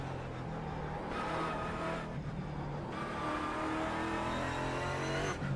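A race car engine in the iRacing sim revs loud and close, climbing in pitch with quick breaks at gear changes and a continuous high-revving drone between them.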